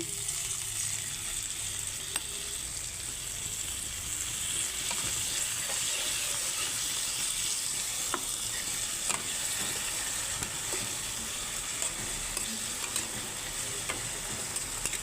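Spices sizzle steadily in a pan after a little water is added while making a light okra curry, a constant close frying hiss with occasional faint clinks of a spoon.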